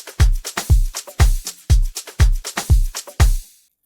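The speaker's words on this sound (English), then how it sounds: "And another snare." A snare sample for an Afro house beat strikes seven times in an even, steady rhythm, each hit punchy and close with a short decay, played alone.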